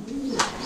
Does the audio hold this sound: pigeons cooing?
yes